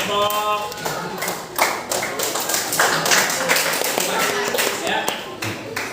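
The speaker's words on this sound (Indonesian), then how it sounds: "kita beri tepuk tangan untuk kelompok" Classmates applaud a student group in a school classroom, with steady, dense hand clapping that carries on throughout at a fairly loud level.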